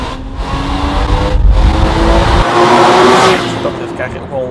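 A Porsche Boxster with a 2.7-litre engine making 265 hp revs hard, a loud wailing engine note that rises and holds before easing off, recorded close with someone talking over it.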